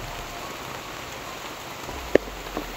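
Steady rain patters down continuously in a game, a broad even hiss with one brief sharp tick near the end.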